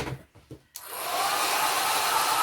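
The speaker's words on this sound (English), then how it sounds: "I think I'll bring in the blow dryer." A few soft knocks, then a hair dryer switches on abruptly and blows with a loud, steady whoosh close by, drying wax pastels on resin coasters.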